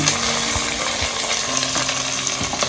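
Onion sautéing in a pan for avarekai palya, a steady close frying sizzle with occasional soft stirring scrapes and clinks, no voices.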